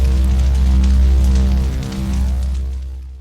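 A synthesizer space chord patch built on a noise waveform in unison holds a steady tonal chord with a hissing noise layer, loud and alone, fading toward the end.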